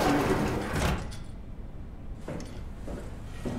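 A sci-fi door in Soma slides shut with a loud whooshing mechanical slam, followed by softer hissing and settling sounds, with no talk.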